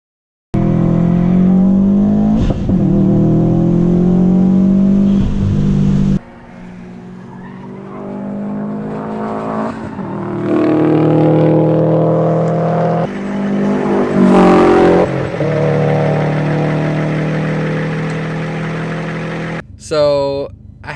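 Turbocharged car driving and revving, engine note rising and falling through gear changes with loud, close passes and brief tire noise, continuing over about twenty seconds.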